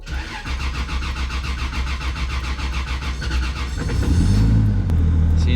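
An MK3 Toyota Supra engine cranks with a rapid whirring starter rhythm, then catches and fires up into a loud, deeper rumble as throttle is applied, close and dominant with no talk.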